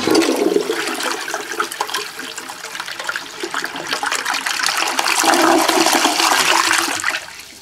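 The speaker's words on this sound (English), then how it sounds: "Let's add the bottle cap. Right. Yeah. Gonna flush it." A toilet flushes beer down with a bottle cap. A loud, rushing gush of water swirls continuously for several seconds before easing into a trickle as the bowl drains.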